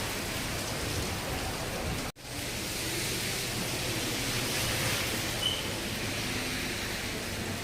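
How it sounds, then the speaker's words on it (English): Steady rain falls outdoors in Thailand, a dense, even hiss of drops on surfaces that continues throughout apart from one brief dropout, with no voices. "Seems to be raining a lot here the past day"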